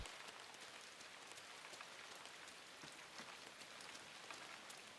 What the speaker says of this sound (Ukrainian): Дощі крапає, яка атмосфера